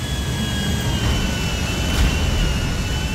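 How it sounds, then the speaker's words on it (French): Airliner jets descend to land at an airport in GTA 5, a steady loud jet engine roar with a high whine holding throughout, no pauses. "Il y a des avions de ligne qui vont se poser."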